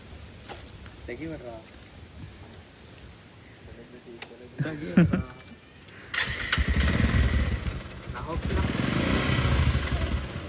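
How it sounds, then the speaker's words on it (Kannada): A motorbike engine starts up and runs steadily with a loud, broad rumble for the back half, after a stretch of people talking and scattered handling noises. "ಈಗ ಸಂಕೇತ್ ಗಾಡಿ ಓಡಿಸ್ತಾನೆ."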